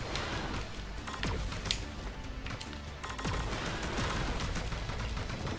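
Rapid gunfire from enemy-shooting action in the Sega Saturn game Panzer Dragoon rattles in continuous bursts with sharp individual cracks, steady and fairly loud, with no talking over it.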